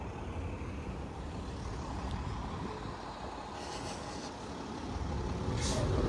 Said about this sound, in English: there's also a lot of trucks because, what do you know, this is an industrial area after all